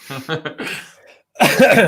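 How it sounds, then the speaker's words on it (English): A man gives a few sharp, close coughs and then clears his throat with a rough, voiced rasp during a live tennis podcast. "Got a bit of a cough?"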